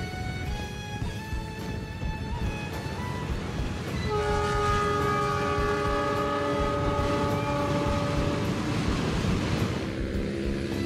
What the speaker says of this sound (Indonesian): barusan dengar nggak ada klakson kereta api di situ?